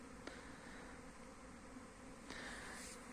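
Soft, steady buzzing from many honeybees flying out of their hives, a continuous faint hum with a few brief louder passes close by.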